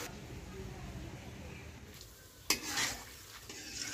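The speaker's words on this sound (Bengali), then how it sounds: "প্রথম 2 মিনিটের মতন ভেজে নেড়ে চেড়ে দিচ্ছি।" Gram-flour bundiya droplets fry in hot oil while a spoon stirs them, a low sizzle broken by a few sharp scrapes against the pan, with a voice speaking over it.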